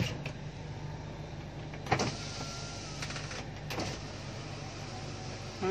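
A Toyota Innova's electric power window or mirror motor whirs steadily in a car interior, a low continuous hum with a couple of brief clicks near the start and middle, moderately close and without talk.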